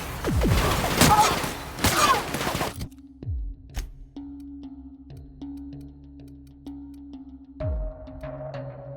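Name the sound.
gunfire in The Outer Worlds video game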